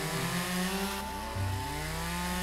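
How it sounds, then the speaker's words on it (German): Chainsaw cutting bushes in the video game Lumberjack's Dynasty, a loud, continuous engine drone that shifts pitch partway through as it bites, close and steady with no talk over it. "Also die Kettensäge, das ist wirklich was Gutes"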